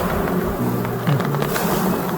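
A swarm of bees hums around a spot where honey sits, a steady close drone with several overlapping buzzing tones wavering in pitch.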